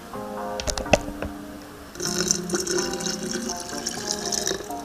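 Cold Peak tea poured from a bottle into a cup or jug, a trickling splash with clinks at first, then a fuller continuous pour with gurgles, close by and without speech.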